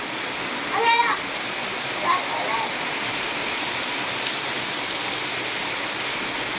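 Steady rain hisses throughout, with a couple of brief voice bursts near the start.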